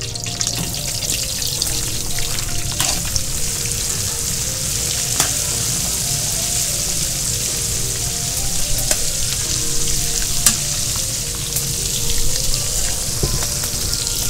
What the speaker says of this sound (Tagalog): So lagay na to natin chicken feet natin sa mainit na mantika.